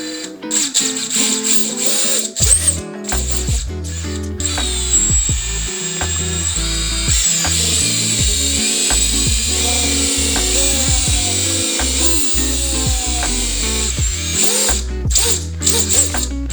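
Small FPV drone motors, spinning without propellers, whine and rev up and down, high-pitched and buzzy, with mechanical rattling throughout and no talking.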